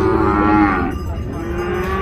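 Cattle moo loudly and close at a livestock fair in Ouricuri, Pernambuco, with one long low call fading into a second quieter one.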